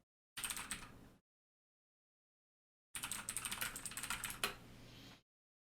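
Rapid clicking keystrokes on a computer keyboard, close and clear, in two bursts separated by about two seconds of silence.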